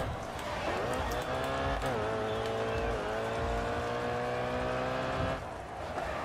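A race car engine in the video game GRID Autosport holds a steady, loud rumbling drone that climbs in pitch as it accelerates, with slight tire noise and a brief dip near the end.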